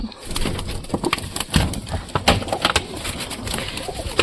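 Pigeons sit close to their chicks and eggs, giving soft, repeated cooing calls mixed with rustling and sharp clicks and taps, heard nearby in an irregular rhythm.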